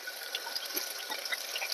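Water is poured into chicken curry in a pressure cooker, a steady soft trickling and splashing heard alone, with no talk.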